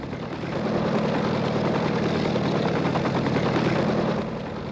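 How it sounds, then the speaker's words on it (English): A helicopter's steady rotor chop thunders loudly and continuously, swelling in as it passes close overhead while coming into Waterloo Air Terminal, with no voices. "Helicopter coming into Waterloo Air Terminal."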